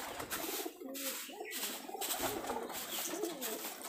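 Pigeons coo repeatedly and close by, kept in a pigeon loft, with low rolling calls recurring over steady background noise.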